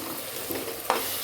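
A paste of ginger, garlic, green chili and shallots frying in oil, with a steady close sizzle, a soft stir partway through and a sharp scrape near the end; nobody speaks.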